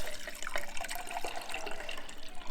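Kombucha is poured from a vessel, giving a short, close gurgling splash of liquid that runs unevenly for a couple of seconds with no talking.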